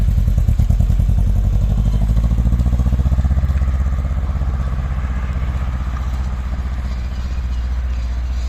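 Proton 4G93 engine running steadily after its first start-up, a loud close rumble with rapid firing pulses that ease slightly in level partway through, no talk over it.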